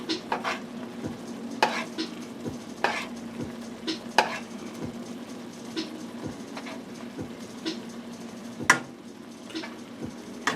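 Burgers cook in a pan with a steady close sizzle and frying crackle, broken by occasional sharp scrapes and clacks of a utensil against the pan, with no talking.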